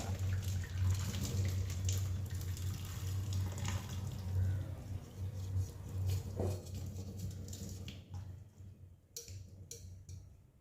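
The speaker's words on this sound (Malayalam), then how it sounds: "നമുക്കൊരു സ്ട്രെയിനറിലേക്ക് നേരെ ഊറ്റാം" Water from boiled potatoes poured straight into a strainer, a continuous splashing rush under a low hum that thins into scattered drips and ticks toward the end.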